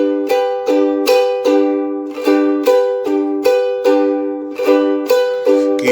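A ukulele strummed in a guarania rhythm in groups of five strokes, with bright, ringing chords and sharp, repeated attacks at a steady, lilting pace. The strumming is close and loud, with no voice.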